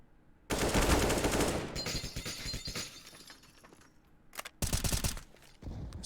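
Rapid automatic gunfire sprays through a trophy cabinet wall in a competitive first-person shooter match, with dense crackling bursts, breaking debris, a pause, and another short burst.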